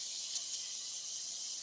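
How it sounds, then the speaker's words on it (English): Food hitting a hot pan sizzles with a steady bright hiss, close and even for a brief moment, no voices over it. "Did you hear that sizzle?"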